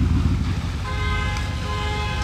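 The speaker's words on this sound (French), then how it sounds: "il y a une alarme qui s'est déclenchée chez les voituriers du casino. Voilà, c'est sur une Lexus." A Lexus car alarm blares outside a casino valet stand, steady electronic tones sounding over loud street and engine noise, with no talking.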